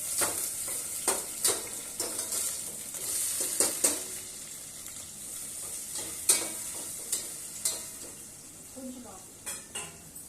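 Capsicum, tomato and soy chunks fry in a pan for a poha upma, giving a steady sizzle broken by repeated scrapes and clinks of a spoon stirring against the metal.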